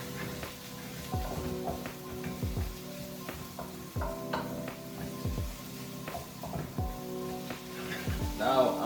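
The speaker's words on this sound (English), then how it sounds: "I'm gonna just stir this up a little bit" Cauliflower is stirred in a pan for vegan mac and cheese, with a soft sizzle and a run of rhythmic scraping strokes over faint tonal background sounds.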